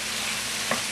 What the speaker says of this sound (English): Now, I'm adding that to this vegetable mixture. I'm going to stir it.